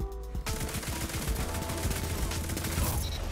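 The Prosecutor auto rifle fires in Destiny 2 during a Trials of the Nine match, a loud, dense, unbroken stream of rapid shots after a brief quiet start.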